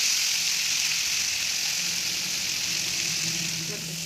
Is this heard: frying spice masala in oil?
yes